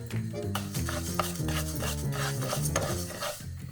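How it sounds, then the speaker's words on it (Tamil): About three quarters of a cup of urad dal dry-roasting in a pan, stirred steadily, gives close rustling scrapes and light metallic clinks of a utensil against the pan, with a faint sizzle and no voices. "நம்ம இப்போ வறுக்க போகிறது உளுத்தம்பருப்பு, 3/4 கப்பு உளுத்தம்பருப்பு முதல்ல வறுத்துக்கிறோம்."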